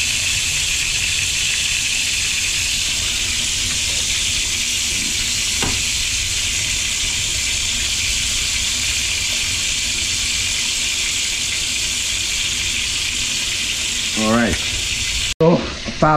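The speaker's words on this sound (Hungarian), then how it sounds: "Már is elkezdjük a tükörtojást megsütni." Sunny-side-up eggs fry in a pan for an English breakfast, giving a steady, loud sizzle that holds for about fifteen seconds. A brief clatter of cookware sounds near the end.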